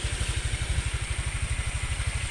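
A Honda Vario scooter engine sputters at idle with a rapid, even, low putter that holds steady throughout, close and moderately loud, with no one talking.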